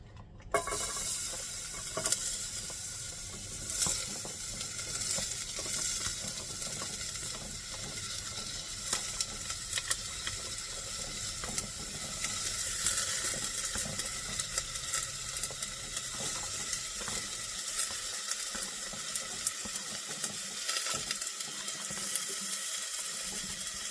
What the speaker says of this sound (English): So let's get our veggies in and start letting them cook.